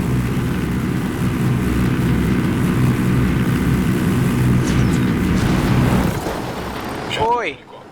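A helicopter in the video game Ghost Recon Wildlands thrums steadily and loudly with a dense rotor and engine rumble, then fades near the end under brief game sounds.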